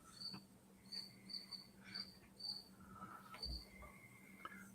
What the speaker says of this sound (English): Oh, I hear the crickets.